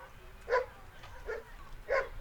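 Three spaced barks ring out from dogs at a women's soccer game broadcast, moderately distant and fairly faint, evenly paced over a low background hum.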